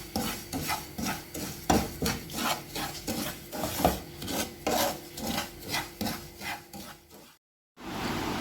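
Semolina (rava) roasting in ghee for pineapple kesari is stirred with steady, rhythmic rasping scrapes of a spoon against the pan. The strokes are close and even, with a brief silence near the end before the scraping resumes.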